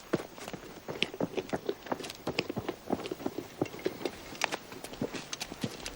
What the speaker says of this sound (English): See to the horses.